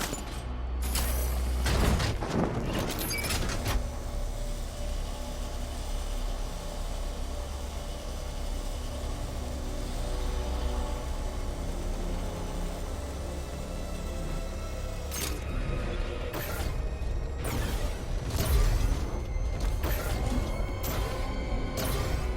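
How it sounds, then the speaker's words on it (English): Mechanical door unlock and opening in the video game Batman Arkham Knight: sharp metallic clunks and a creaking, grinding slide, then a long humming mechanism and more clanks near the end. "Another door unlocked."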